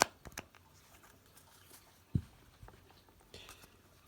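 Light Seers Tarot cards are shuffled in quick, soft riffles and taps, scattered faint rustles with one sharper snap, close and quiet, no talking.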